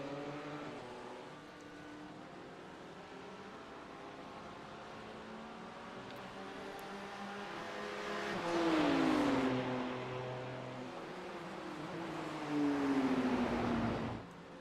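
BMW race cars lapping Sebring International Raceway in a sim racing game, a continuous engine drone that swells twice as cars rev and pass, with rising and falling pitch sweeps.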